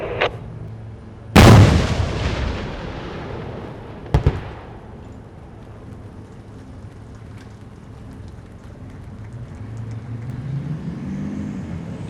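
A tank main gun fires during a military firepower exercise, one loud booming blast followed by a long rolling echo, then a second sharper crack and lingering rumble of engines outdoors.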